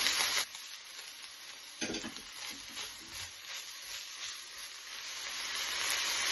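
Steady frying sizzle close up, a bright hiss with a couple of sharp bursts as bell pepper hits the hot pan, no talking.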